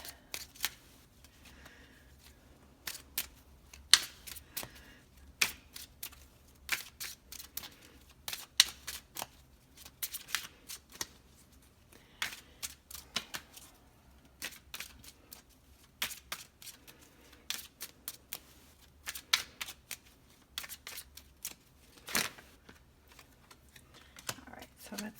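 Lenormand fortune-telling cards shuffled by hand in a quiet room, a long run of quick papery riffles and soft slaps coming in uneven bursts, close and fairly faint, with no talking.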